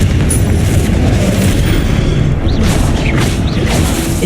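A Confringo fire spell explodes in Hogwarts Legacy, a loud continuous booming blast with rumbling low end and a couple of whooshing bursts near the end, no talk over it.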